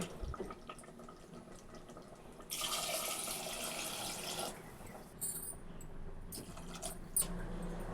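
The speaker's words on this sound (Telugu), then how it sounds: "ఇప్పుడు ఇందులో మనం సరిపడనన్ని వాటర్ పోసుకోవాలి" Water pours into a pot of chicken curry simmering in its masala, a steady broadband rush for about two seconds in the middle, with quieter kitchen clatter before and after.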